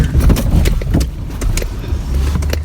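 A 2020 Nissan Armada Platinum Reserve in 4 high gives a steady low engine rumble as it takes a little throttle off-road after coming over a log and down a hill, with light knocks and rattles over the terrain.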